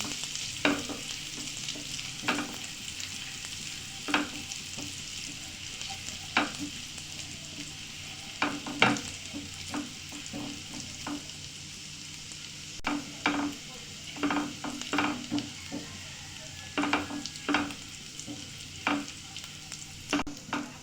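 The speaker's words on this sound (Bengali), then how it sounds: "যতক্ষণ না রসুন থেকে একটা সুন্দর স্মেল বার হচ্ছে ততক্ষণ রসুনটাকে আমি একটু ভাজা করে নিচ্ছি।" Garlic frying in a pan for an egg malai cheese omelette: a steady, close sizzle broken by sharp, irregular scrapes and clicks of stirring that grow busier toward the end, with no talking.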